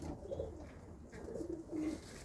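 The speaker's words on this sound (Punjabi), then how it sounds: "ਆ ਦੇਖੋ ਬਹੁਤ ਵੱਡਾ ਵਜੂਦ ਹੈ ਇਸ ਕਬੂਤਰ ਦਾ" A pigeon coos softly nearby, a few low murmuring calls within a couple of seconds over a quiet background.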